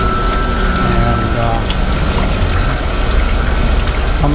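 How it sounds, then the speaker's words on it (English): Water pouring out of a sludge dewatering screw press at a wastewater treatment plant, a loud, continuous rushing flow over steady machinery hum and pump-like drone. "But a nice flow of water"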